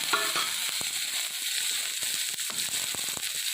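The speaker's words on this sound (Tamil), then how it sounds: "வெங்காயம் நல்லா வதங்கி வரட்டும்" Onions sautéing in a pan for a taro (elephant yam) mash, giving a steady close sizzle with a few scraping stirs throughout.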